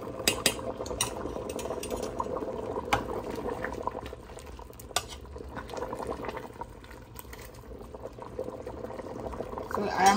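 A pot of fried eddo soup bubbling on the stove, a steady low simmering burble with faint clinks of utensils, close and quiet while someone talks over it.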